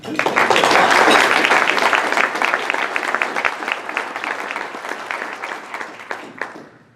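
Applause from an audience at a Columbia Rotary club meeting, a dense wash of many hands clapping that swells loud early, then thins and fades over about seven seconds.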